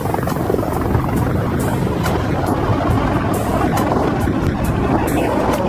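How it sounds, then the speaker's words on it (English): A Black Hawk-type military helicopter circles close overhead near a mountain peak, its steady rotor roar and churning wash loud and continuous throughout with no talk. "A military helicopter suddenly swoops in for a closer look."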